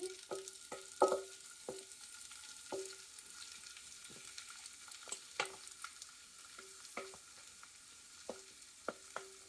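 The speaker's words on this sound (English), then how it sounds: "Then we add our cabbage mixture." A cabbage mixture for Korean street toast frying in a pan gives a soft, quiet sizzle broken by repeated sharp spatula taps and scrapes at irregular intervals, close and without speech.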